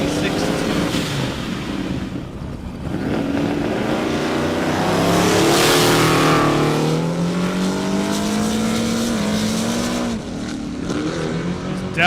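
A 200-plus mph race car accelerates flat out along a half-mile airstrip at the 2021 Indy event, its engine a loud, sustained roar whose pitch climbs steadily through the run before easing near the end.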